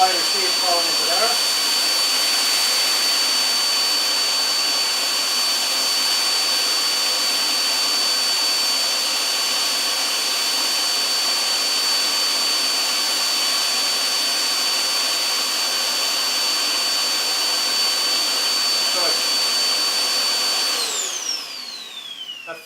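A zig zag seed cleaner grading sunflower seed at full suction gives off a loud, steady airflow roar with a thin high whine, running continuously and tapering off near the end.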